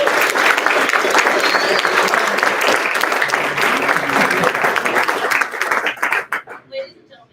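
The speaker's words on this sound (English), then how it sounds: "let's give one more warm round of applause to Class 23010" Loud, sustained audience applause at a graduation ceremony, dense clapping with some crowd noise that breaks into scattered claps and dies away near the end.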